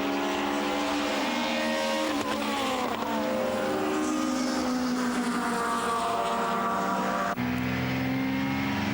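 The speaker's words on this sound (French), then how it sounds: "un duel Suisse-Belgique avec l'Opel de Josseron devant la Golf de Vos." Opel and VW Golf Supertouring cars race at Magny-Cours in 1997, their engines droning loud and steady, pitch rising and falling as they shift gears and pass by.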